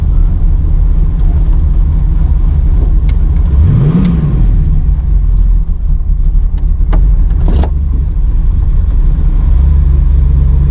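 A car with a swapped Ford 8.8 limited-slip differential drives along, its engine droning loud and steady up close, with a brief rise and fall in pitch midway and a few clunks, no talking.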